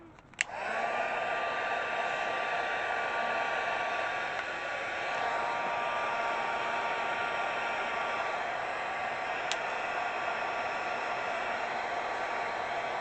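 A hair dryer blows on a gel print, switching on with a click and a rising whine, then holding a steady loud whooshing roar with a constant tone to the end, with no talk over it.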